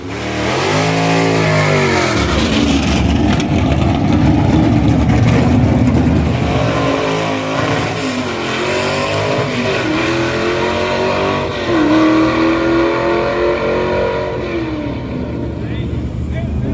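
A 1963 Ford Galaxie race car on a drag strip revs hard and accelerates, its V8 engine climbing through repeated loud rising sweeps as it shifts, dominating from start to finish.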